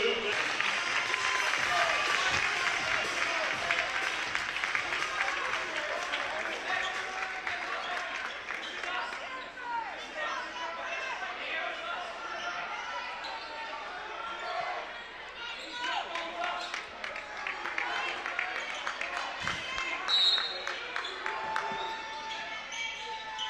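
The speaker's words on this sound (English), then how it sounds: "defense chant from the Cougar crowd." Cougar basketball crowd in a gym chanting for defense during a timeout, a sustained roar of many voices with sneaker squeaks and ball bounces scattered throughout.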